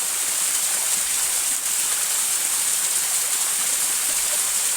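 A waterfall roars steadily and loud as a dense, unbroken rush of falling water, heard up close with no other sounds over it.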